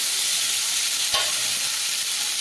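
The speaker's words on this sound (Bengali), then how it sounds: "খুব কম তেল ব্যবহার করে পনিরটা শ্যালো ফ্রাই করে নেব।" Paneer shallow frying in a little oil makes a steady, close hiss of frying with one brief clatter partway through and no voices.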